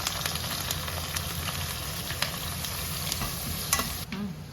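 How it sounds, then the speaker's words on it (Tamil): Mustard seeds, asafoetida, onion, green chili and curry leaves frying in hot oil in a village kitchen: a steady close sizzle with scraping stirs and small pops throughout, no voices. "கடுகு, கொஞ்சம் பெருங்காயத்தூள் போட்டுக்கிறோம். அடுத்து வெங்காயம், பச்சை மிளகா, கருவேப்பிலை"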